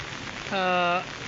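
Heavy, non-stop monsoon rain falls during a flood of the Aghanashini river, a steady dense hiss with a brief tonal sound rising over it midway.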